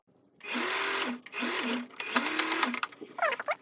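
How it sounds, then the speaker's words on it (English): A sewing machine backstitches tulle ribbon for ruffle anklets in several short whirring bursts with pitch rising and falling, close up, then ends with quick clicks and rustling. "I'm just gonna finish sewing, and I'll make sure I backstitch at the end."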